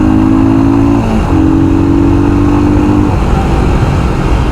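A Royal Enfield Scram 411 motorcycle pulls hard in second gear, its engine note a steady, loud drone that dips briefly mid-run before climbing again, close and continuous with wind rush around it.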